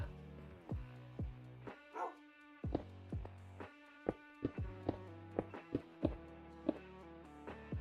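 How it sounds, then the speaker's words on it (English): Minecraft dogs barking in a series of sharp, separate yaps, some overlapping and spaced unevenly, over a soft game backdrop with no talk. "if my dogs could hear the audio from Minecraft right now, I think they'd be barking at the dogs in Minecraft"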